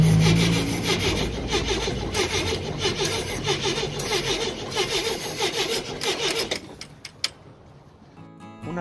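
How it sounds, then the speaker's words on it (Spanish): Steady abrasive sanding scrapes back and forth against a classic VW Beetle's metal body, loud and close, before stopping abruptly and leaving a few scattered knocks. "Una vez que acabaron de lijarlo"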